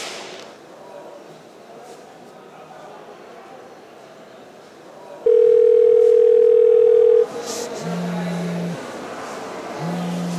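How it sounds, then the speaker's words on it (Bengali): An incoming call on a phone in a comedy drama comes through as a steady electronic tone lasting about two seconds, followed by short, lower repeated beeps over a faint background hum. "হাবু ফোন দিছে রে"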